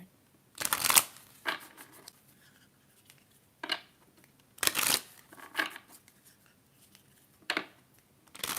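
Moonology oracle cards being shuffled during a tarot reading, several soft papery riffles and slides in short bursts with quiet pauses between, close and intimate with no talking.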